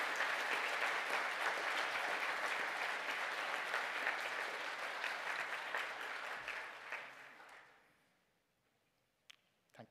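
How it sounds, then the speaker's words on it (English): An audience applauds the graduating Bachelor of Science Honours in Computing and Software Development class with sustained, even clapping that fades out over a couple of seconds, leaving near silence and a few stray claps. "for a very well round of applause"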